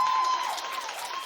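A TV talk show studio audience applauds steadily at moderate volume, dense overlapping claps with some cheering mixed in throughout.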